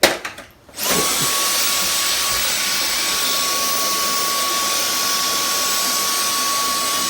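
A Dyson DC44 Animal cordless vacuum cleaner starts up after a few clicks and runs loud and close with a steady high-pitched whine, alone with no talking.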